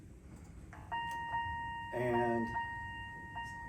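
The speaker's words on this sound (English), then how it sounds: "it's a fire alarm" A fire alarm sounds inside a building, a steady electronic tone with bright harmonic chimes that repeats in short bursts, with faint talk underneath.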